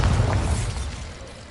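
A Bombarda spell detonates in Hogwarts Legacy: one loud, close burst with a booming low end that quickly decays into a fading rumble.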